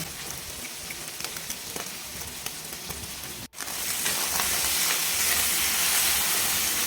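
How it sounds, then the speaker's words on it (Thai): Pork and fried egg being stir-fried in a hot wok, a loud continuous hiss and sizzle that cuts off for an instant, then returns even stronger and brighter. "พอไข่ดาวเริ่มเป็นสีขาวแบบนี้เราก็ยียียีแล้วก็ผัดให้เข้ากันกับหมูนะคะทุกคน"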